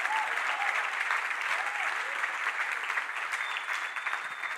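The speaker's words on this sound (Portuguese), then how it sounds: "Dá um aplauso ao meu pai aí" A church congregation at a conference in Portugal applauds steadily, dense sustained clapping from a large crowd filling the whole stretch, with a few faint voices and cheers mixed beneath.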